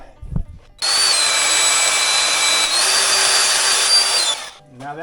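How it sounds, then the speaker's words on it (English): A sharp click, then a loud high-pitched magnetic drill whine boring steadily through a steel frame rail for several seconds before winding down. "So I have my magnetic drill set up."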